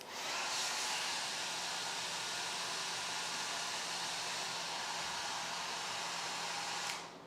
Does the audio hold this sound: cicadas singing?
no